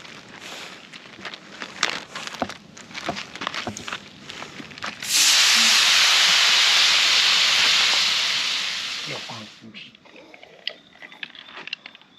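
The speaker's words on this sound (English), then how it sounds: "So let's go put these in the frying pan." Food marinated in Guinness and onion hits a hot frying pan with a sudden loud, steady sizzle that lasts about four seconds and then fades. Clattering and handling noises come before and after it.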